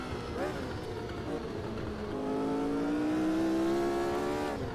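A historic Formula 1 car at Hockenheim in Automobilista 2 howls at high revs, engine pitch climbing steadily through a gear, loud and close with a continuous whine, while a voice talks over it.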